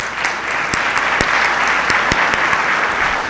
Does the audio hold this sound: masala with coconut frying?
no